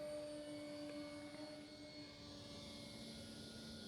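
An XFly GlaStar RC model airplane flies overhead, its electric motor giving a faint, steady whine with a clear tonal hum that holds constant throughout.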